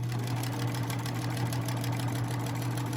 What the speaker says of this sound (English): It's time to bring it to the sewing machine, and I am going to sew around the entire outside with a 1/4 inch seam allowance